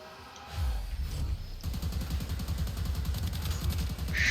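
Rapid bursts of sidearm fire from the Laetum in a video game, a steady rattling stream of shots that picks up sharply partway through and continues densely to the end, with no talking.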